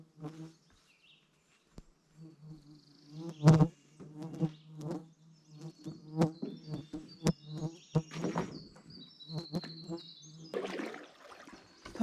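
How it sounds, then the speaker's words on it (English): Buzzing insects swarm around a wilderness canoe campsite in the Boundary Waters, with a steady drone and frequent near passes from 3 seconds on, a sharp close buzz at about 3.5 seconds, and faint bird chirps above. "Oh, the bugs are so bad."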